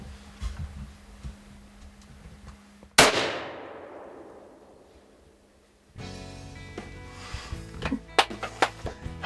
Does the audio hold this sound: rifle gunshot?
yes